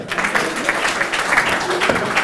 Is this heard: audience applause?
yes